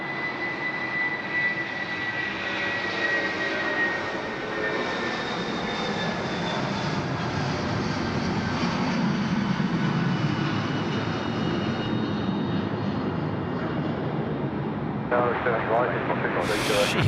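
A heavy Malaysia Airlines MASkargo cargo jet builds a sustained, loud engine roar with a thin whining tone while rotating on takeoff at Sydney Airport at night, intensifying midway, with a voice talking near the end.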